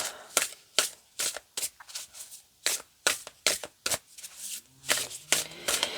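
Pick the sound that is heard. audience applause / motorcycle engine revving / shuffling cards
shuffling cards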